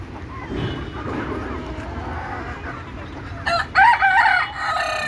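Domestic chickens cluck in a low, scattered way, then a rooster crows loudly and close by near the end, standing out over a faint background.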